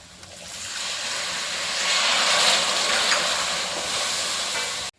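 Vinegar with asafoetida and fenugreek powder heating in a pan for carrot pickle, a continuous steamy hiss that swells slightly in the middle and cuts off abruptly at the end.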